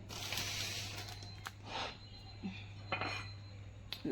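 Chicken lasagna lifted from a hot glass baking dish onto a plate, with soft scattered clinks and scrapes of a serving utensil against glass over a low steady hum.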